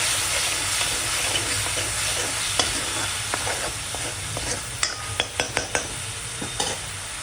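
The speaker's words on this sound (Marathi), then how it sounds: "आता आपण ह्याच्यामध्ये आलं लसणाची पेस्ट टाकूया। ती पण आपण 2 मिनिटं परतून घेऊया।" Ginger garlic paste stirred into frying onions in a pan, a continuous sizzle and hiss with scattered spoon scrapes and taps growing more frequent toward the end, no talking.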